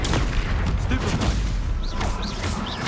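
Stupefy spell cast in Hogwarts Legacy gameplay: booming, crackling spell impacts over dense battle noise, with a voice shouting spell names.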